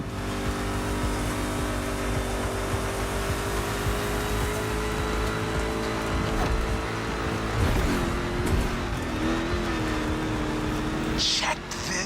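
Rally Raid-prepped Ford Mustang GT driving in The Crew Motorfest, with a steady, loud engine drone that holds throughout, shifts pitch briefly near the end, and carries faint talk over it.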